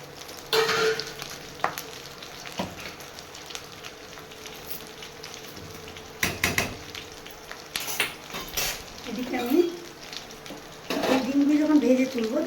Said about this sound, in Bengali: তার আগে ডিমটা ভেজে তুলে নিই